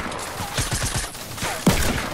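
Gunfire in the Fortnite video game, a rapid burst of shots in quick succession followed by a sharper single report near the end, loud and close over game background noise.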